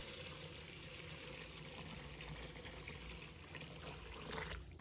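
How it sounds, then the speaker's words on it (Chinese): Warm water pouring steadily into a bowl of dry rice noodles in a home kitchen, a continuous soft gushing and splashing at moderate volume throughout. "再往碗中倒入多一点的温水"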